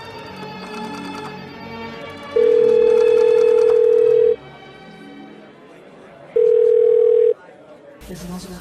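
A telephone tone on a red phone sounds as two steady, loud electronic beeps, a longer one and then a shorter one, over murmured background talk and music.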